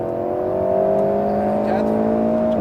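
Alpine A110 S accelerating hard on the Le Mans Maison Blanche circuit, heard from inside the car, a loud steady engine note with rising harmonics and a voice in French over it.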